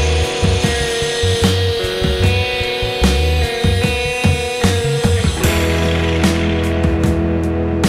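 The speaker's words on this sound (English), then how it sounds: "I'm gonna wire brush this some more" A wire brush scrubbing a coated metal heat riser part for a VW Split Bus, giving steady, loud, close rhythmic rasping strokes with a mechanical hum and no talk.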